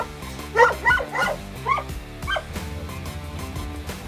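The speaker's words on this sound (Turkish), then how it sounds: "Burada görmüş olduğunuz bu butik çiftlikte 12-13 tane köpek var" Several dogs at a small boutique dog farm bark and yip in short bursts near the start, then fade into softer whimpers over a steady background hum.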